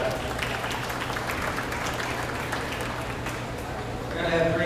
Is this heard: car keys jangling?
no